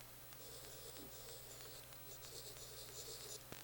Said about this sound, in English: it gives you a sound of a pencil against a notepad